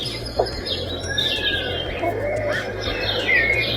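Continuous birdsong with varied chirps and whistles plays over a low steady hum from a small portable white noise sleep machine speaker.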